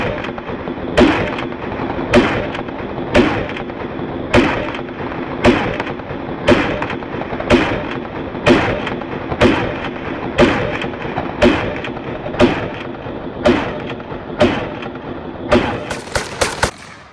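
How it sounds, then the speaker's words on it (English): A Draco pistol fires a full magazine at an outdoor range, about fifteen loud, sharp shots spaced roughly a second apart in a steady rhythm, ending in a quicker cluster of final rounds with no speech between them. "Let's go ahead and get this mag dumped"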